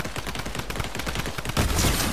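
Rapid bursts of gunfire from the video game Fortnite, with dense automatic shots going off back to back, then a louder blast-like surge near the end.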